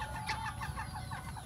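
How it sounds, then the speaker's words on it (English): Ducks on a rainy day in the Philippines give rapid, rhythmic clucking quacks nearby, a steady series of short calls repeating throughout. "Yeah, the ducks are here."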